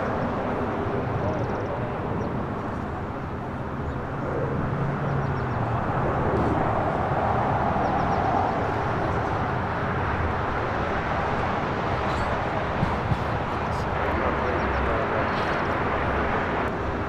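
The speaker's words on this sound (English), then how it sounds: "China Eastern, more than likely, making that right-hand turn onto Lima for a north side takeoff on 24 left." China Eastern airliner taxiing at Los Angeles International Airport, turning onto a taxiway toward the north runway, a steady broad jet-engine roar held at a distance for the whole stretch, with faint airport background.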